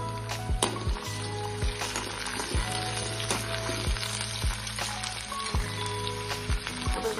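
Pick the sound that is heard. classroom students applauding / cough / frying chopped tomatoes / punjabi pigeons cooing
frying chopped tomatoes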